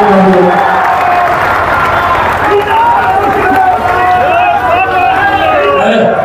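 A rally crowd claps and cheers loudly at a Chirag Paswan event, a dense continuous roar with voices and a strong ringing tone running through it, close and sustained throughout.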